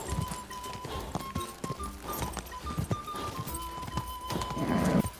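A horse cantering in Kingdom Come: Deliverance 2, brisk rhythmic hoofbeats close by with a whinny and heavy snorting breaths rising toward the end, a faint steady tone beneath.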